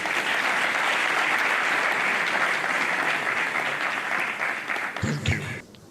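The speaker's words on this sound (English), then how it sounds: "big round of applause" Large audience applauding at a university convocation ceremony, a dense sustained wash of clapping that fades near the end as a voice begins speaking.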